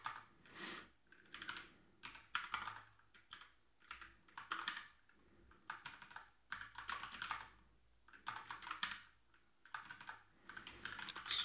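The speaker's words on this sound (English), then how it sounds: "It is a lot of typing in the beginning." Computer keyboard typing in steady bursts separated by short pauses, close and fairly quiet, during F# programming work; no talking.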